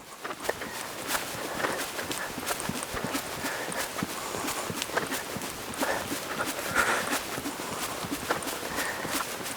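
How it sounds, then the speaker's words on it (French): A ridden horse trots at a steady two-beat rhythm during a flatwork lesson on transitions, its hoofbeats moderately close and even throughout. "Et comme ça, je peux trotter."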